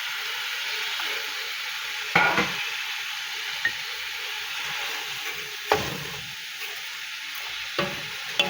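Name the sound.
vegetables stir-frying in a pan for pancit bihon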